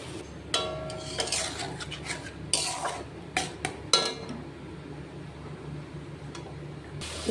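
Tomatoes frying with a spice batter poured in for a Katla fish curry, stirred with a utensil; several sharp metallic clinks and scrapes against the pan ring out over a low steady background hiss, with no talking.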